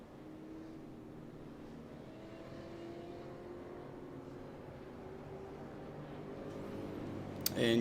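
Race cars leave pit road at Nashville Fairgrounds Speedway, their engines a steady distant drone that slowly swells louder, with a sharp click near the end.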